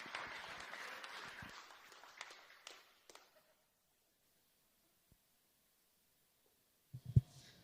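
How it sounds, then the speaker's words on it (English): An audience applauds to welcome a speaker onto the stage; the clapping is faint and fades out after about three seconds into near silence, with a couple of soft knocks near the end. "let's give a huge round of applause"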